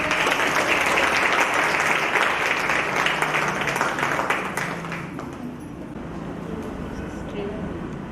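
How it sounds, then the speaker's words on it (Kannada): An audience at a women's Kasuti embroidery training event claps loudly and continuously, dense applause that eases off slightly partway through and carries on at a lower level. "ನಮ್ಮ ಜೋರಾದ ಚಪ್ಪಾಳೆ"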